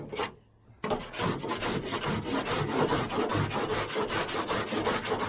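Steady rhythmic rasping of a cheese grater tool scraping across partly cured body filler on a 1978 Chevy Nova, close and loud, with repeated back-and-forth strokes after a brief quiet start.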